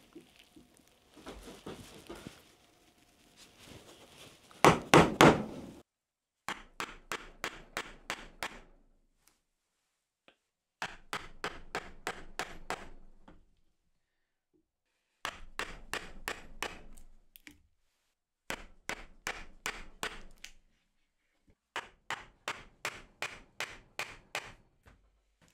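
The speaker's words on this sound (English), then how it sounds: "So now, I can get this in the vise, use the mallet I just made," A wooden mallet drives a sharpened mortise chisel into wood held in a vise, cutting a mortise by hand: repeated bursts of sharp, close knocks in quick rhythmic runs, separated by short pauses.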